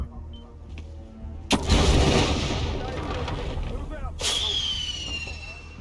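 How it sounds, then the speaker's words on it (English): Fireworks bang in the Hitman 2 video game: a sharp loud burst, then crackling, and a second burst about three seconds later, with a whistling trail afterward. "Fireworks go off."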